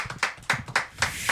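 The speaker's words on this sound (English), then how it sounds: "Clap for that." Slow, evenly spaced hand claps at a live comedy show, about five sharp claps in a steady rhythm, close and distinct with pauses between them.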